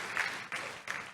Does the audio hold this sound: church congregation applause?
yes